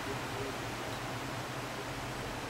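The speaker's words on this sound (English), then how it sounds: "And I apologize for the fan noise." An electric fan runs indoors, producing a steady, even broadband whoosh with a faint low hum that fills the whole stretch without pause.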